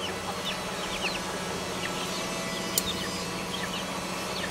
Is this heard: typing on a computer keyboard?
no